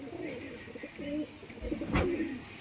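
A pair of fancy pigeons offered for sale coo in low, warbling phrases at close range, fairly soft, with a brief rustle or bump near the end and almost no talk.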